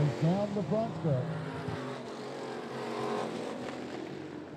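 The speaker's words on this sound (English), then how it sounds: "It's almost a drag race down the front stretch." Street stock race cars roar down the front stretch of a short oval track, engines droning in a sustained blur behind an announcer's commentary that fades partway through.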